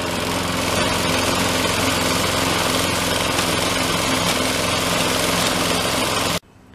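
Sears Craftsman 21-inch self-propelled lawn mower with a 6.75 hp Briggs & Stratton engine running steadily and loud close by, a continuous even drone that cuts off abruptly near the end.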